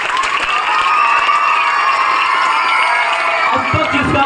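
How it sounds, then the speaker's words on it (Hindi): Loud, sustained applause with cheering and whoops from a school audience after a class 6 student's Independence Day speech, a dense crowd roar filling the whole stretch. "बस ताली बजाइए कि अलग डोल जाना चाहिए"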